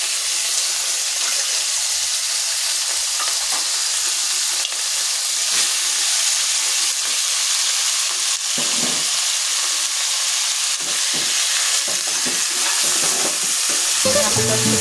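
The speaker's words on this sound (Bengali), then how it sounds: "এখন আমি চুলার জালটা আবারও অন করে দিলাম, দিয়ে এই যে আমার মাংসগুলো এটা ছেড়ে দিলাম" Meat frying in a hot pan for biryani gives a loud, continuous close-up sizzle and crackle, with occasional stirring scrapes and no voice.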